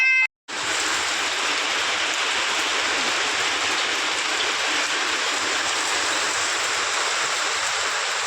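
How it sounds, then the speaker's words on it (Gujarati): Heavy rain pours down in a steady, dense roar that fills the scene from start to finish, loud and constant, following a brief quiet moment at the very beginning. "વરસાદ ફૂલ ચડ્યો છે ને ફૂલ અત્યારે વરસાદ ચાલુ છે"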